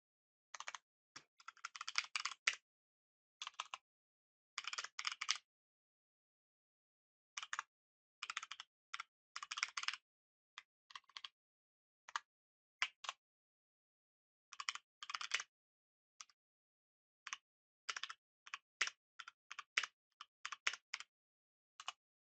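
Code being typed on a computer keyboard, with bursts of quick key clicks separated by short pauses, close and fairly quiet, with no voices.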